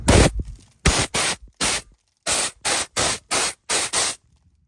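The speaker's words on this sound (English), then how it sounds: "I'm going to spray it down again so we don't get anything in the fuel tank. Just a light little douse." Repeated short bursts from a spray can or nozzle misting over the fuel tank area of a 1999–2013 Chevy Silverado during fuel pump replacement, about eight hissing sprays in an uneven rhythm, close and loud.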